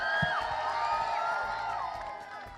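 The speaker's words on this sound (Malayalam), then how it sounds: "ഒരു നല്ല കൈയടി കൊടുത്തേ." Studio audience of a Malayalam TV game show cheering and clapping as a young contestant is called up, a loud, steady crowd roar over background music that eases off slightly toward the end.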